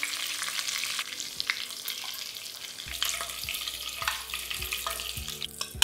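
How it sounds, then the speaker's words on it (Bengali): Tilapia fish pieces fry steadily in hot oil for a mustard curry, a continuous close sizzle with occasional crackles and light utensil scrapes, no voices. "এবারে একইভাবে আমি বাকি দুটো মাছও ভেজে নিচ্ছি।"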